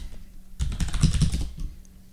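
A burst of rapid keystrokes sounds on a computer keyboard as a sudo command is entered on a Linux machine. The clacking taps are close and distinct, starting after a short pause and lasting about a second.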